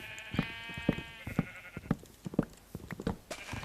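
Sheep in Minecraft bleat repeatedly, a series of short nasal baas spaced about half a second apart, fairly close and clear with no talking.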